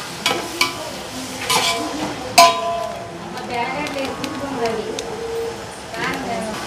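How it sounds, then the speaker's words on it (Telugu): Chicken biryani ingredients frying in a pot with a soft, steady sizzle, scraped by a stirring utensil with occasional clinks against the metal. "ఇప్పుడు మంచిగా వేయించుకుందాం."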